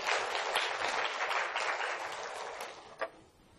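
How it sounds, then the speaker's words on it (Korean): Applause from an audience at a Bank of Korea lecture, a fairly soft, steady patter of many hands clapping that fades out near the end, with one sharper isolated clap just before it dies away. "박수 한번 부탁드리겠습니다"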